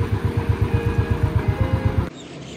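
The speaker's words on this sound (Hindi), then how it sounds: "अपने मोटरसाइकिल पे सवार होके शहर को छोड़ते हुए गांव की तरफ" A motorcycle engine runs steadily with a rhythmic low pulsing as the rider heads out of the city toward a village in Assam, cutting off abruptly near the end into quieter background.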